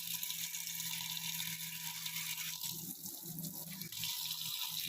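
Water running steadily from a tap fed by a Sanwa electric water pump with a flow switch, a continuous close rushing hiss with a low mechanical hum beneath and some rattling.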